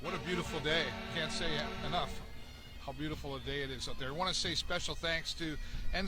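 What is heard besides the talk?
No everyday noise stands out behind the speech.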